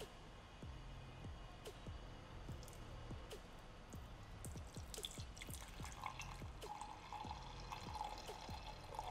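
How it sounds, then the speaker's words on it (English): Soft, faint trickling and dripping of coffee into a cup with honey, a quiet stream with small splashes continuing for several seconds. "now I'm just gonna pour the coffee"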